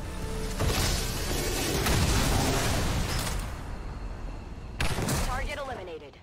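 Rapid gunfire from XCOM 2 War of the Chosen crackles in dense, sustained bursts, pausing briefly before a final loud volley, with a voice speaking near the end.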